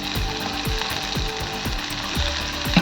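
Cabbage and carrots sizzle in a hot pan for village-style spicy noodles, a steady loud frying hiss with rhythmic scraping strokes of the spatula about twice a second; no talking.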